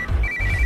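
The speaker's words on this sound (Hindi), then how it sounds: "इस वक्त दीदी का फोन।" A phone rings with an incoming call in a tense scene from the action film Fighter, two bursts of electronic warbling tone, close and fairly loud, with no talking.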